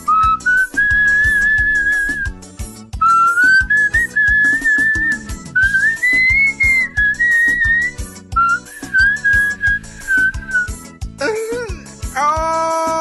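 A person whistles a lilting melody in repeated phrases with short pauses between them, loud and close over a busy backdrop of music-like sound, ending in a higher, wavering flourish.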